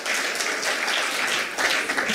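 Applause at a human rights defenders awards ceremony as lifetime achievement honourees are called forward, a steady wash of many hands clapping throughout without pause.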